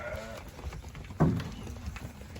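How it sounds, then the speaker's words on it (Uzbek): One loud bleat from a Hisor sheep rings out close by, with fainter bleats and animal shuffling around it in the background. "Mana ishqibozchilikka boqadigan qo'ylar ekan"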